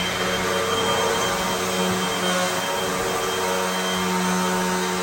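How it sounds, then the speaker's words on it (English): A household vacuum cleaner runs continuously over a floor being cleaned before laminate installation, a loud, steady motor whine and airflow roar with no pauses and no voices. "we use a household vacuum to do our final cleanup before we do the installation"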